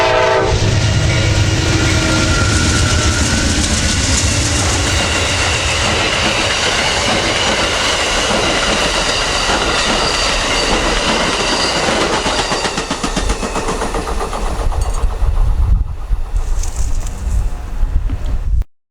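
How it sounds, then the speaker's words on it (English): An Amtrak passenger train, number 91, roars past close by, its horn sounding over heavy rail clatter, with pigeons cooing and the rumble fading toward the end. "this is one of those trains that's just always a sure bet"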